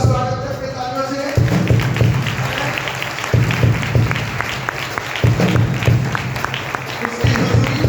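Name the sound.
congregation clapping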